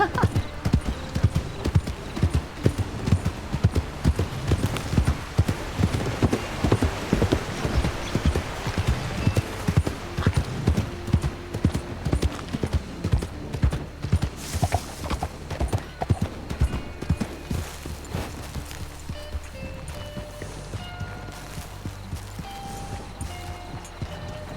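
Horse hooves clip-clop steadily in Red Dead Redemption roleplay on the way to Valentine, a brisk close rhythm under ongoing talk, easing off toward the end.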